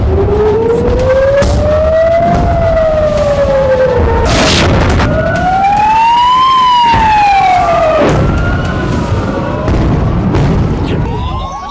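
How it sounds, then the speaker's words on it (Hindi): A loud siren wails, rising and falling in long sweeps, layered with heavy booms and blasts; no voices. "कलेजे को चीर देने वाली अलर्ट सायरन की आवाज"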